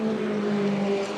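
A green and black BMW 130i and a white Mitsubishi racing for position on a circuit, a loud sustained engine drone with a steady whining pitch, brief and close.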